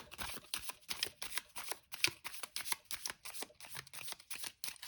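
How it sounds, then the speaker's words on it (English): A tarot card deck is shuffled by hand in a quiet room, a rapid run of soft crisp riffling bursts repeating steadily, close and fairly faint. "Okay, we'll do one final shuffle here."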